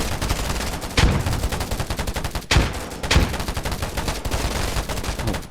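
Rapid video game gunfire bursts in loud, dense volleys, with a few heavier blasts standing out among continuous automatic shots close up.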